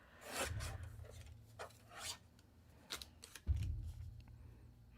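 A piece of card-making stock is trimmed to size, heard as a few soft, quiet scraping and rasping strokes separated by short pauses.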